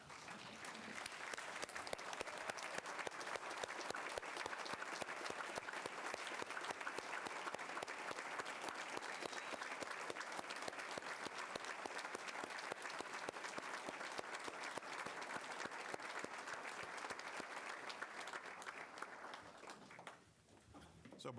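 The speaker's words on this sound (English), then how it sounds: "Let's all stand and give them a round of applause." An audience at a school recognition meeting stands to applaud honored students, giving a steady, dense round of clapping that lasts about twenty seconds before tapering off abruptly.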